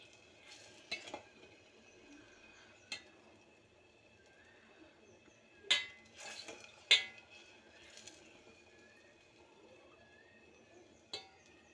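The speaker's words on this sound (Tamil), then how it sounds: "அது சர்க்கரை கரையிற வரைக்கும் நல்லா கொதிக்க விடலாம்" Sugar syrup tinted with colour powder boiling in a pan for rava laddu, stirred with a spoon: sparse sharp clinks and scrapes stand out over a faint, quiet background.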